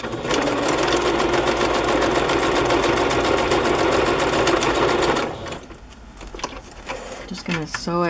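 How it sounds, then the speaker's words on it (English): Sewing machine stitching a pocket onto fabric, a loud steady close whirring run for about five seconds, then stopping, followed by quieter handling noises. "I'm gonna sew this on."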